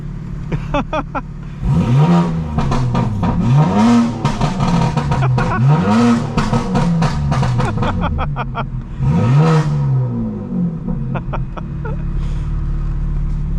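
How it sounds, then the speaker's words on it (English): A 900-horsepower 2025 BMW M4 Competition xDrive engine revs hard and close, in repeated rising-and-falling surges with a deep throaty roar, followed by a steadier idle rumble. "Can I listen to the engine?"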